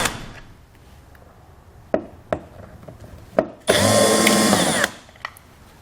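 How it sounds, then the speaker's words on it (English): A power tool with a T27 torx socket removes taillight bolts, first a few short taps and clicks, then one loud whirring burst of about a second followed by a quick final click, close up with no talk. "We'll use a T27 torque socket to remove these two bolts."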